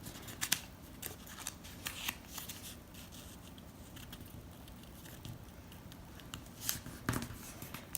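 Paper is being creased and folded into an origami bookmark, giving close, quiet crinkles and sharp crisp snaps that come in irregular bursts with nothing else in the background.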